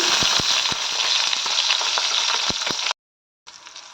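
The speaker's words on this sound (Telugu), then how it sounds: "ఆయిల్ హీట్ అయ్యాకండి పచ్చిమిర్చి వేసుకోవాలి." Green chillies frying in hot oil in a pan, a loud, dense, close sizzle with scattered sharp pops and crackles, then a brief cut and the sizzle resuming.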